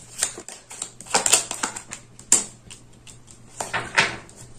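Tarot cards shuffled and laid out on a table, with light papery snaps and taps in an irregular rhythm, close and fairly soft.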